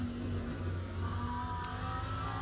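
Steady, close engine roar from a Lamborghini GT3 race car holding a sustained tone, with a brief rising whine near the end and no speech.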